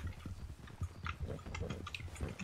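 Horse hooves clop softly and irregularly in the RedM western roleplay game, with two riders on a white horse passing below, faint and unaccompanied by talk.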